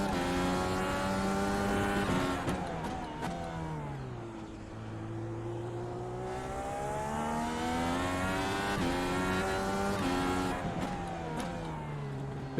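A race car's engine in the iRacing simulator at the Long Beach street circuit howls loudly through changing gears, its pitch climbing and dropping across several shifts, with brief tire squeal and no talking.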